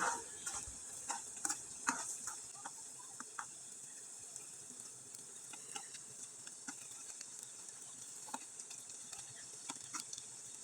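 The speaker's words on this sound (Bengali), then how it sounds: "পিঠাগুলো একবারে মুচমুচে করে ভেজে নিলাম" Palm-leaf pitha cakes made with rice flour fry crisp in oil over low heat, giving a faint, steady hiss with scattered small pops and light clicks throughout.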